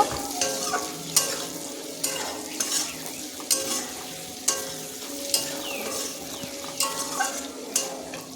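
Turmeric and chili powder are stirred in hot oil in a pan while cooking a vegetarian lentil-cake curry. A utensil scrapes and knocks against the pan in a regular rhythm over a steady sizzle, close by, with no voices.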